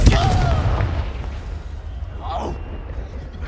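Expelliarmus spell cast in Hogwarts Legacy, a sharp booming blast at the start decaying into a rumbling tail with faint magical shimmering and game effects afterward.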